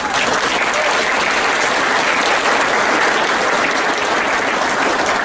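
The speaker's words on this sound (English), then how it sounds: "Give them a round of applause." Audience at a tribal college graduation ceremony clapping loudly and continuously, a dense unbroken wash of applause with no talk over it.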